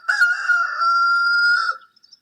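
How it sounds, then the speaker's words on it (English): A domestic rooster crows once, a loud, close, drawn-out cock-a-doodle-doo with a sustained middle note and a brief rise at the end, heard alone against silence. "the average domestic rooster call would sound something like"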